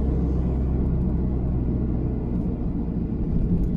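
A car pulling away from a junction and accelerating up to speed, heard from inside as a steady, loud low engine rumble that holds throughout with no talk.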